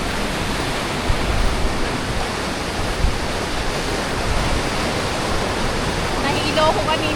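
Powerful rushing river water during a rafting trip in Nepal, a steady, dense, loud roar filling the whole clip with no breaks.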